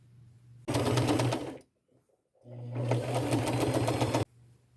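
A sewing machine runs a straight stitch along a shirt ruffle in two rapid bursts of rattling needle strokes, pausing briefly in between, close and clear with no speech.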